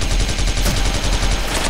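Rapid bursts of video game gunfire from a Christmas neon guitar gun, a dense, loud, continuous stream of repeated shots with no pauses throughout.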